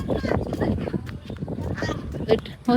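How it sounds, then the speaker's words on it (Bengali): A domestic duck honks several times in a village setting near boats, short nasal calls close by mixed with background voices of people talking. "এটা হচ্ছে হাঁস রাজা হাঁস"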